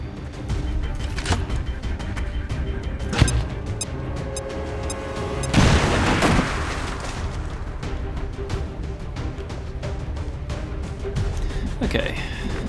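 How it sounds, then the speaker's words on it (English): A grenade detonates in the turn-based strategy game XCOM 2, a sharp, loud blast with a crackling tail, amid ongoing game sounds and occasional talking. "Grenade out!"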